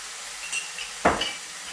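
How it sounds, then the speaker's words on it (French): Vegetables seasoned with turmeric and paprika are stirred in a pan for a frittata, giving one brief, close scraping swish with a faint sizzle beneath, surrounded by quiet kitchen background. "Et on va venir mélanger comme ça gentiment."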